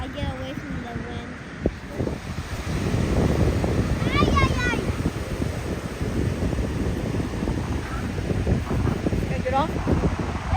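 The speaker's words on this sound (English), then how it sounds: "I get away from the wind" Wind at a beach buffets the microphone in a steady, rough roar, while children and adults talk nearby.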